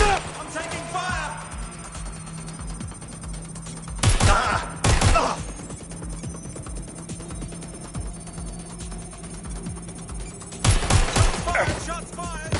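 Gunfire in the video game Watch Dogs Legion comes in two loud bursts of rapid shots separated by a long stretch of quieter game ambience, with a faint voice talking early on.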